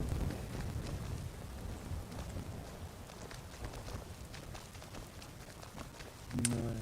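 Steady rain falls throughout Skyrim, a wide hiss with scattered drops, and a brief louder rumble comes near the end.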